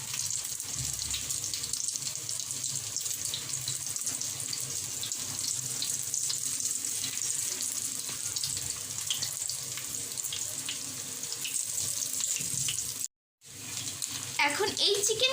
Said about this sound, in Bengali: এখন এই চিকেনগুলোকে আমরা তেলের মধ্যে ছেড়ে দিব।